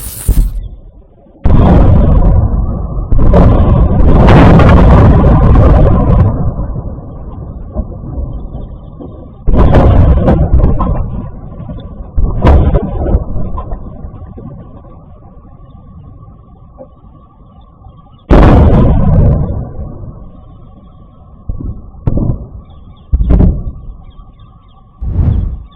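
Iranian missiles fall and explode in Israel, heard as several heavy booms and blasts with roaring rumble spread over about 25 seconds, loud and close, separated by quieter stretches of distant noise and a steady background hum.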